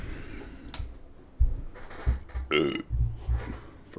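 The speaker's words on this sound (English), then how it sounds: "First burp of the evening." A single burp rises close to the microphone in a quiet room during an evening livestream, brief and guttural, set among low thumps and faint background noise.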